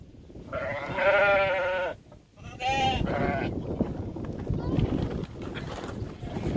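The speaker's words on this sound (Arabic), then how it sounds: "جدي معيزه." Young goats bleat in quick wavering cries, two distinct bleats close to the microphone, with rustling and outdoor noise on a rural farm between them.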